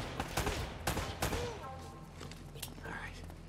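Gunfire from Uncharted: Drake's Fortune comes as a few sharp shots early on, with a voice speaking over and between them before the scene quiets to a low rumble.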